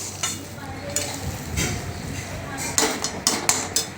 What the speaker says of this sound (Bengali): সমস্ত উপকরণ খুব ভালো করে মিশিয়ে নেব এখন লো হিটে আছে লো ফ্লেমে চলছে